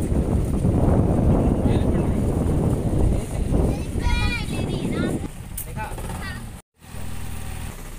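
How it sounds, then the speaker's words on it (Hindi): A boat ride on open water back from Poovar Island in Kerala brings a steady engine rumble and heavy wind buffeting against the microphone, loud and continuous, with a brief cutout near the end. "फ्रेंड्स हम लोग अपने बोट में फिर आ चुके हैं,"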